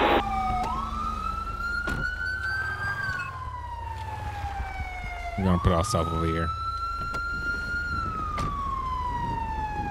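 Police car siren in the GTA 5 video game, an Illinois State Trooper patrol, wailing and sweeping up and down near and loud with a sharp yelp burst midway, under someone talking.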